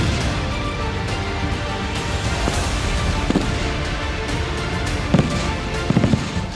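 Gunfire crackling through a city during unrest in Belarus, with sharp scattered reports and quick bursts over a dense, continuous noisy background, sounding distant rather than close.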